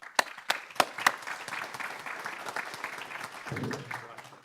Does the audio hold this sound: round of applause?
yes